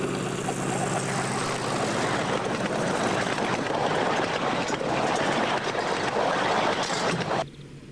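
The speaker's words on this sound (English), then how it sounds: "Mind your head, there's a Deltic coming." A model Deltic diesel locomotive on a model railway passes with a loud, close, droning engine roar that holds steady throughout and then drops away abruptly near the end, with no voices.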